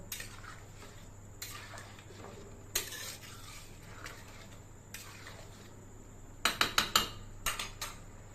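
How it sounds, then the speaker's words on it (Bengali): Food being stirred in a pan, heard as a soft sizzle with occasional scrapes and, near the end, a quick run of metallic clinks from the spoon against the pan; no one speaks. "ভালো করে নাড়িয়ে নেব"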